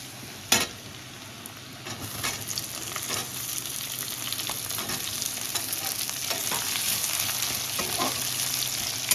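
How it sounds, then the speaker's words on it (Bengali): Continuous crackling sizzle of onions frying in an oil-filled pan, with occasional sharper pops and a clatter near the start. "তো বন্ধুরা দেখতে থাকুন, ভাজাটা হচ্ছে"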